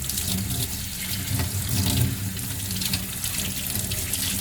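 Water runs steadily from a kitchen tap as a basin fills for bathing ferrets, a continuous close splashing rush with no voices over it.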